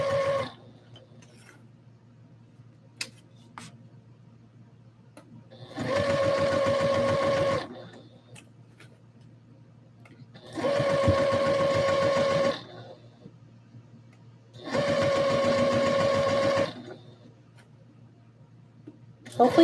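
A serger sewing machine runs in three separate bursts of roughly two seconds each, steady whirring stitching with quiet pauses between them and a few small clicks, close and fairly loud.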